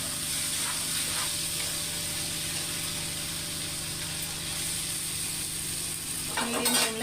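Food cooks in a pan over a medium flame, giving a steady, close sizzle and hiss that runs throughout, with a few brief clatters near the end.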